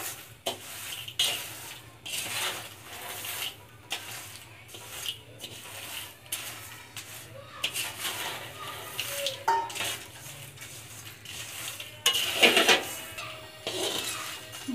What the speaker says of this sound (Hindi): चम्मच चलाते हुए आपने भूनना है।